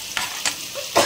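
Pointed gourd and potato fry in a pan, with a soft continuous sizzle broken by three scraping stirs, close and alone with no voices.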